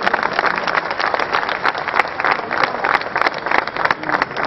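A crowd claps continuously at a Christian rally in Secunderabad, a steady dense patter of many hands at fairly close range, loud and unbroken throughout.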